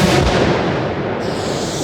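A loud, heavy blast from an American M109 Paladin self-propelled howitzer booms close by, its roar rolling and slowly fading over a couple of seconds.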